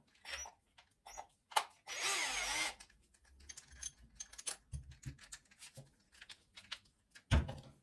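A Parkside PWBSA 12 A1 cordless angle drill boring with a 14mm bit, close and in short bursts: brief whirring runs and clicks, with one longer sustained drilling stretch, separated by quiet pauses.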